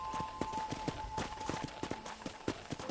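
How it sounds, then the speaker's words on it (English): Hoofbeats of a horse being ridden in the Western video game Red Dead Redemption, a steady rhythmic clip-clop at a trot, close and continuous over faint background ambience. "let's see if you can still ride a horse"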